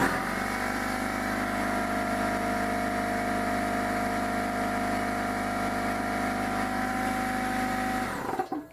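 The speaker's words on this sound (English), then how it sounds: "Let's try the air compressor and see what we get." An air compressor powered by a Bluetti Pioneer Na sodium-ion portable power station runs steadily with a loud, even motor drone and hum for about eight seconds, then shuts off and winds down abruptly.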